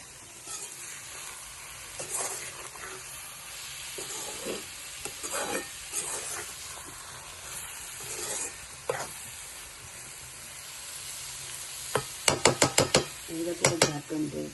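Wet dried shrimp stirred in a pan over a wood-fired stove gives a low steady sizzle broken by scraping spatula strokes, with a quick burst of sharp metallic clinks near the end.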